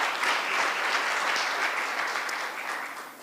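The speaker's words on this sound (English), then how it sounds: "I think she deserves another round of applause." A room full of people at a justice administration launch event applauding steadily, dense and even clapping that holds for a few seconds before slowly tapering.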